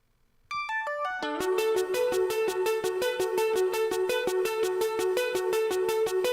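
A pop song played from Ableton software: a bright electronic melody opens with a few rising synth notes, then settles into a steady, loud beat of repeated chords and pulses.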